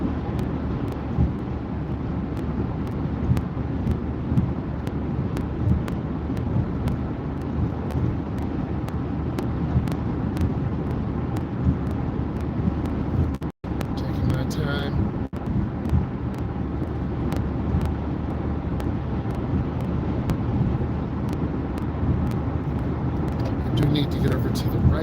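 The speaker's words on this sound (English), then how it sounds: "Need to get over to the right, accelerating through the gap, then I lift my foot." A car accelerates through busy street traffic during a driving lesson, a steady engine and road rumble with wind noise running throughout beneath a person talking.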